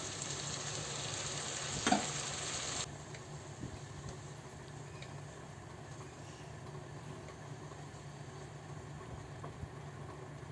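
Butter curry leaf chicken masala sizzles and fries in a pan while a spoon stirs it, with a low steady frying hiss and faint scrapes, a louder burst early on before the sizzle settles quieter.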